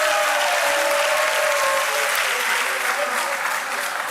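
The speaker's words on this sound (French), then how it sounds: "applaudissez-les pour moi" Steady, dense applause from a talent-show audience fills the whole stretch, loud and continuous, with crowd noise blended in and no clear talk above it.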